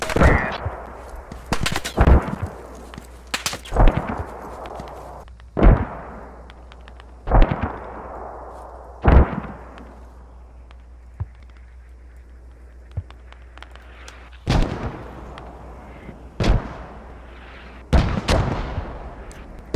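Mortar rounds and explosions in the video game Squad, with a steady series of heavy booms spread across the whole stretch, some landing close and sharp, others duller and farther off, with no talk over them.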